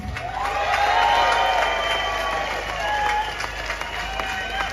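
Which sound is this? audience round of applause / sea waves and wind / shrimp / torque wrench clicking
audience round of applause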